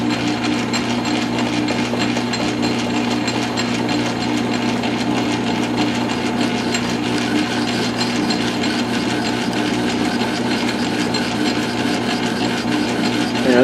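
A lathe bores out the threads inside a nut with a steady, continuous grinding whir and a scraping metal cut, running unbroken throughout and fairly loud.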